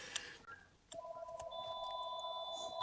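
Telephone ringing with a steady electronic warble in two sustained tones, moderately loud and continuous with no talk over it.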